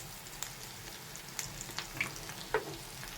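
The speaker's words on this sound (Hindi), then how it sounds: "ये देखें कितने प्यारे हमारे कबाब फ्राई हो चुके हैं।" Shami kebabs fry in a pan, giving a soft continuous sizzle broken by scattered crisp pops and spits of oil.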